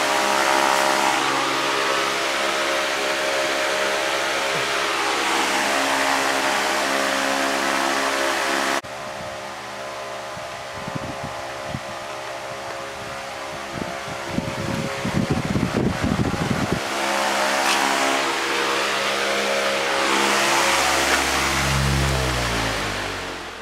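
Loud industrial electric fan running steadily, a dense broadband whoosh with a low hum, dipping briefly in level midway before returning to full roar, no talking.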